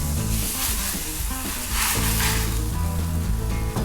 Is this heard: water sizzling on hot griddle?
yes